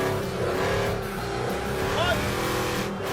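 Muscle truck with a four-link rear suspension slowing down in first gear, engine drone steady and close throughout, with voices talking over it.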